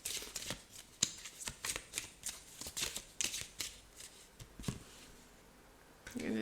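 Tarot cards being shuffled by hand in a quiet room, a steady run of crisp riffling and flicking bursts close up, heard alone without talk.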